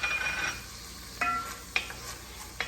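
Garlic sizzles in a pan with sweated vegetables for a seafood chowder, a soft continuous frying hiss broken by a few sharp clinks and scrapes of a utensil against the pan, no voices.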